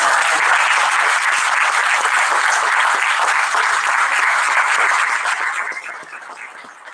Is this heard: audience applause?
yes